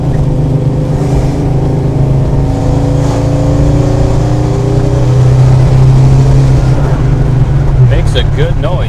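A 1970 Dodge Charger with a cold 383 V8 rumbles and revs loudly up close from inside the car, a steady low engine drone that swells as it accelerates, with people talking over it.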